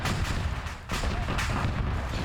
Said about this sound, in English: we hear normal laser sounds coming from these other rifles